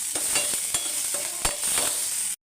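Tomato, coriander stems and curry leaves frying in a pan over a medium flame, steady sizzle with repeated stirring clicks and scrapes, close and loud, cutting off abruptly at the end.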